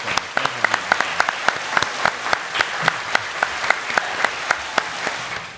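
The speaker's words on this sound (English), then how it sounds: "let's give this man a round of applause" A small audience applauds a special guest being welcomed at a live event, with sparse, distinct hand claps in a loose rhythm that continue steadily throughout, fairly close and moderately loud.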